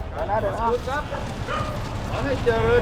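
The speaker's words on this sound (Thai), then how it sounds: "เห็นไหมหมายังเห่า" A dog barks repeatedly outdoors during a street handout of boxed meals, a series of mid-pitched barks and yips coming every half second or so at moderate distance, while a person talks over them.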